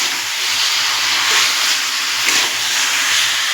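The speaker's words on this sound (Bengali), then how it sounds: "এবার আমি আলুগুলো দিয়ে খুব আলতো হাতে একটু নাড়াচাড়া দেবো।" Potatoes and jackfruit seeds sizzling in hot oil in a pan for a Bengali egg curry, a steady loud frying hiss close by while they are stirred gently, no voices.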